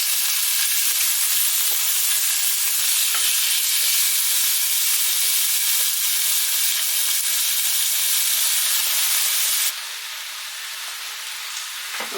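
Meat for Polish hunter's stew browning in a hot pan, a loud, dense, continuous hiss of sizzling fat that drops sharply in level near the end; no voices.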